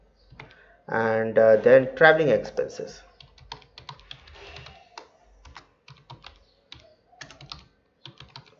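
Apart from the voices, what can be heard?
typing on a computer keyboard in Excel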